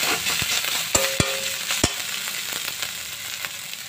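Spice paste with turmeric and salt frying in a pan under a steady close sizzle, stirred with a few sharp metallic taps and scrapes of the utensil against the pan, with no voices.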